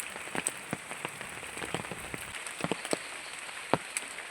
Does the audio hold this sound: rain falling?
yes